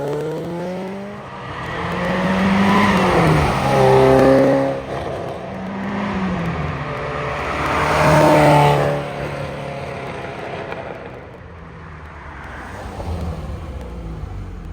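A 1986 Ferrari 328 GTB passes by twice on the road, its engine rising as it accelerates toward and past, then fading away, loud and close with harmonic engine tones and no talk.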